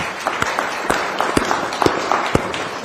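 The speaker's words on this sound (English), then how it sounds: "Can we have a round of applause for XQ Institute too?" A conference audience applauds with sparse, scattered claps that ring out one after another in a brief, moderately loud patter, no voices over it.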